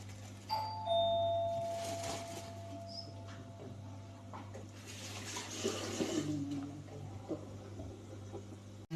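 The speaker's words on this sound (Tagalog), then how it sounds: "Doorbell guys, kasi may dumating na order ng amo ko." A doorbell chimes twice near the start, clear tones ringing over a steady indoor hum with faint kitchen noises and running water, then a quieter stretch.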